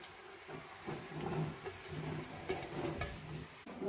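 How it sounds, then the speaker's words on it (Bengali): Jujube fruits (kul) simmering in date palm jaggery in a pot, a soft bubbling with stirring scrapes and small clatters, fairly quiet and close, with no voices. "গুড়ের সঙ্গে কুলটা একটু ফুটিয়ে নেব।"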